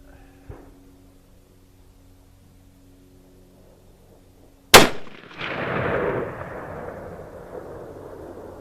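A single sharp, loud rifle shot from a Remington 770 fired outdoors, a sudden crack followed by a long rolling echo that fades over several seconds, after a quiet stretch.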